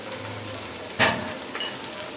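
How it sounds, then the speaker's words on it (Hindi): Finely chopped apple gourd frying with onions gives a quiet, steady sizzle, interrupted by one sharp clatter of a utensil against the pan midway. "ये जो टिंडे हमने 1 किलो बारीक इस तरह के काट लिए थे, तो ये हम साथ ही डाल के फ्राई कर लेंगे"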